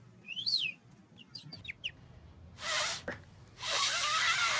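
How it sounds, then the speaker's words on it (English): Several short bird chirps and a rising-falling whistled call sound nearby, followed by two bursts of broadband rustling noise. "It's just a bird."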